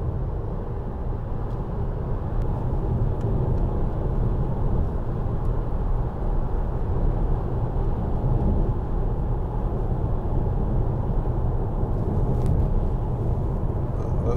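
A 2013 Citroen DS4 1.6 e-HDi diesel cruises at 70 mph in sixth gear at low revs, giving a steady, even low engine drone and road roar throughout with no talking.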